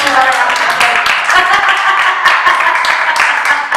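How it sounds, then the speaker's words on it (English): At a small business summit, a smaller group claps close by with distinct, uneven hand strikes while voices and cheering mix in over the clapping. "she needs a round of applause"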